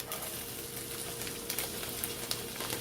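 Chopped medium onion sizzles in a skillet with browned herb chicken, a steady bright frying hiss with small crackles and pops throughout, close and even.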